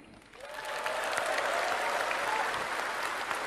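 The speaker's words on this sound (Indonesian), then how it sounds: "Tepuk tangannya kurang semangat." A crowd at a political gathering breaks into applause that swells within the first half second, then holds as a dense, steady wash of clapping with no one speaking over it.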